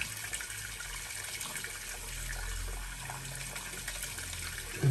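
Hot water gushing steadily from a bathroom tap while a razor and comb are rinsed after a shave, a continuous close hiss with no talking.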